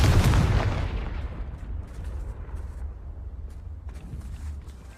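A Confringo spell explosion in Hogwarts Legacy bursts with a sharp, loud boom at the start, then fades into a low rumbling decay with faint scattered ticks.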